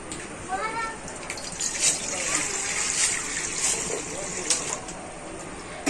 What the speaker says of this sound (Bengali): আর কড়াতে আমি এখন দিয়ে দেবো কিছুটা পরিমাণ জল।